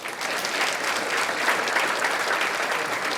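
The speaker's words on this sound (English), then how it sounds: "Round of applause, please" An audience at a birding awards brunch applauds a third-place team: sustained, even clapping from many hands, fairly close and steady from start to finish with no voices on top.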